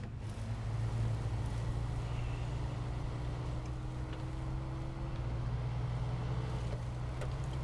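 Off-road truck on off-road tires grinding uphill in SnowRunner, its engine a steady low droning rumble held at a constant load throughout, with no talking.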